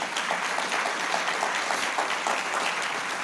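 A church congregation claps together in a continuous, lively burst of applause during a Spanish-language sermon, sustained and fairly loud throughout with no voices over it.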